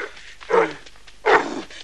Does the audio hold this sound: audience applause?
no